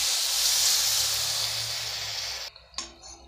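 Water poured into frying masala for egg bhurji curry sets off a loud, steady hiss and sizzle that fades slightly and cuts off abruptly near the end, with no talk.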